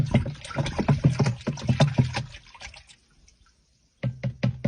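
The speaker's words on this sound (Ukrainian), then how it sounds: "Тепер гарно перемішуємо білочок." An egg white mixture stirred for a garden spray, giving quick rhythmic knocking and tapping strokes close by, a pause into near silence, then a few more taps.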